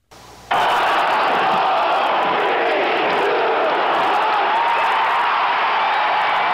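A huge arena crowd roars at the 1980 Lake Placid Olympic hockey upset win, the United States over the Soviet Union, the loud sustained cheer rising abruptly and holding steady.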